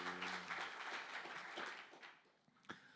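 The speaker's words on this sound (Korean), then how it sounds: "박수" Church congregation applauding after a sermon prayer, a brief burst of clapping that fades out with a few scattered claps at the end.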